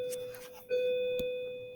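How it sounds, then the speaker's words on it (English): Two bell chimes ring out in succession, the second louder and sustained, with a clear tone slowly fading. "Just ignore the bells."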